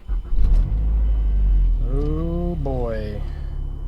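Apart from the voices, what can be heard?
2012 Mazdaspeed 3 car driving with new transmission mount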